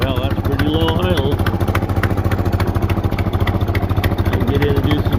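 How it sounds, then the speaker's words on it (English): An 80-year-old Ford 2N tractor engine runs at a very low idle with a steady, rhythmic chugging pulse. It is close and fairly loud, and someone talks over it. "Well, that's pretty low idle."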